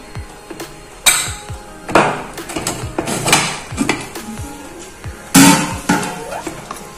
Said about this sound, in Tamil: இப்ப மட்டன் எந்த அளவு நம்ம வெந்திருக்குன்னு குக்கரை ஓபன் பண்ணி பார்ப்போம்